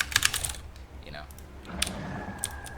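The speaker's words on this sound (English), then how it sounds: "I do have a mechanical keyboard" Keys clatter on a mechanical computer keyboard during a strategy game, several quick clicky bursts with pauses between, close and fairly crisp over faint game sounds.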